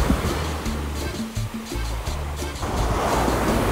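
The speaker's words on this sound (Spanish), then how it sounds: "La marea está bastante fuerte y terminé mojado" Strong tidal surf on the Costa Rica coast, loud rolling waves crashing and washing in a continuous roar with some wind buffeting the microphone, close by and without speech.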